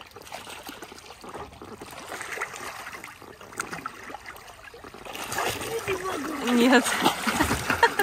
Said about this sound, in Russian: меня обрызгала